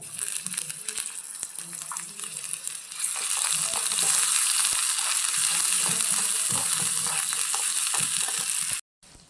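Ginger garlic paste hits fried onions in a tiny miniature kitchen pan for khichdi, starting with soft stirring scrapes before a loud, bright sizzle swells and holds close, then cuts off abruptly.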